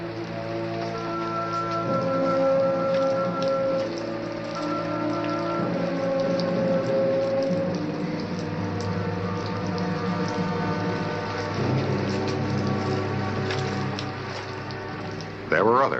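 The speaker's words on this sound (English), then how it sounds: "May 12th, a rainy afternoon in Tombstone." Steady rainfall patters throughout, with tonal music and a low rumble layered over it.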